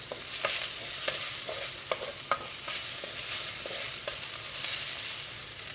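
Fish curry frying in a little oil in a pan as fenugreek seeds go in, giving a steady sizzle with scattered small pops and clicks, close and alone.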